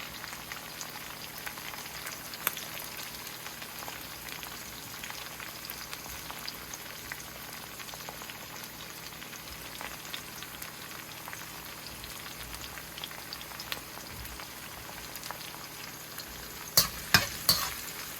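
Onions fry in hot oil with turmeric, giving a soft, even sizzle throughout with occasional light stirring clicks and a few sharper utensil knocks near the end.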